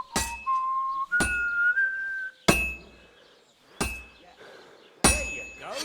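A blacksmith in the medieval game Kingdom Come: Deliverance II hammers a sword blade on an anvil, five sharp ringing strikes spaced about a second apart, with a steady tuneful whistle rising in pitch between the first blows.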